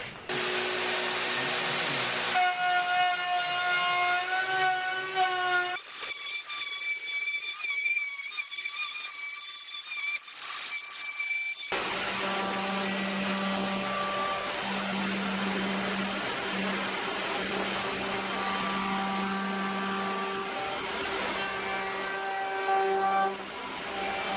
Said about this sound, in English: I'm using this feature to rough cut the edge of this hardwood table and then again do a fine cut